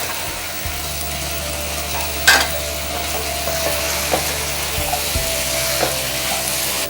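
Fried squid sizzles and hisses steadily in a hot pan, with a few scraping stirs and clicks of a utensil against the metal.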